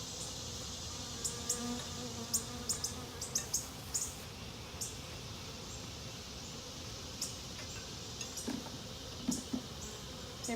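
A dense, steady hum of many honeybees buzzing around a hive, with scattered clicks and taps over the drone and no voices.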